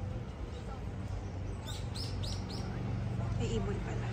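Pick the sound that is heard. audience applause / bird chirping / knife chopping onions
bird chirping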